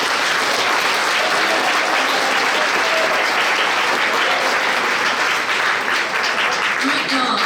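An audience at a regional science fair final claps loudly and steadily for a student, a dense continuous roar of applause with a few faint voices mixed in.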